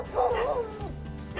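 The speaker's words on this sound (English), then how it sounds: "There's a dog on the roof." A dog perched on a rooftop barks and yips in a quick, close run of sharp, whiny calls outdoors, with a short pause before another bark at the end.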